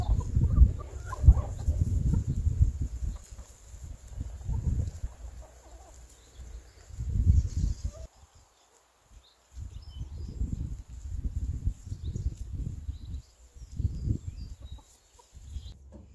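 Backyard farm chickens cluck and murmur steadily nearby, with soft overlapping calls that drop out briefly before resuming, heard outdoors with no talking.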